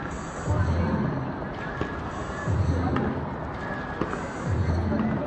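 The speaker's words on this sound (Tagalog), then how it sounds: "Fireworks, man. I like the fireworks." Fireworks exploding outdoors at a celebration, with booming low thuds recurring roughly every two seconds amid crowd chatter and distant crackles.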